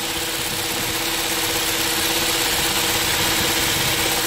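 A Toyota 2TR-FE engine idles with a cylinder 1 misfire, a steady close-up drone with a faintly uneven pulse running the whole time and no voices.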